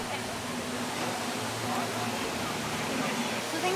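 A cascading water feature in the Bellagio botanical gardens gives a steady, dense rush of falling water that fills the scene throughout. Voices may be faintly mixed in.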